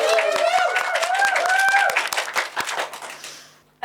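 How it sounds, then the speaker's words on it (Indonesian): A small group claps sparsely in a casual indoor gathering, with scattered hand claps heard under a person talking; the clapping thins out toward the end. "Beri tepuk tangan."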